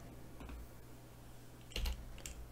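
Computer keyboard keys are pressed in a few faint, sparse clicks, with one slightly louder tap near the end, set against a quiet room hum.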